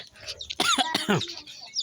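A chicken squawks and clucks loudly at close range, a few sharp, rising calls in quick succession.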